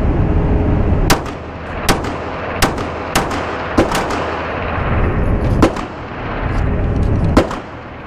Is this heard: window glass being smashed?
no